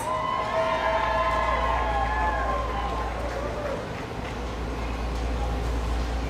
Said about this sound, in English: Let's give another round of applause to our 2025 15U World Series champions